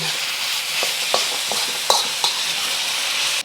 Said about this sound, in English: I'm going to cook this for about 3 to 5 minutes, just until the pork is completely cooked through